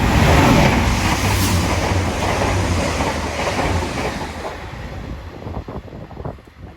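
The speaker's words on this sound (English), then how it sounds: "Past is a double 185." A double Class 185 train passes through Newton-le-Willows station, loud and close with a heavy rush of noise. Wheel clatter grows as the roar fades, and wind buffets the microphone.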